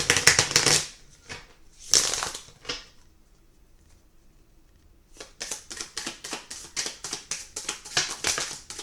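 Close, crisp riffle shuffles of cards, two short bursts, a quiet pause, then a steady run of rapid flicking and tapping.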